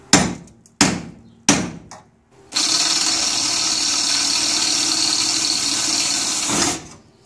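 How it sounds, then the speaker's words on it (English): Center punch hammered into the metal of a VW Beetle door: three sharp, ringing metallic strikes, then a long steady whine of drilling a pilot hole that runs for about four seconds before stopping. "I'm just going to take a punch, put it right in the center, and just start this"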